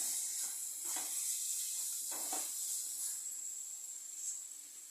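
Onions and tomatoes frying in a pan for egg masala give a soft, steady sizzle with faint stirring scrapes, quiet and close, with no talking.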